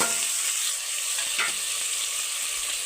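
Green chillies, tomato, onion and coconut fry in a pan over a low flame, giving a steady, even hiss of sizzling with a faint scrape partway through and no voices.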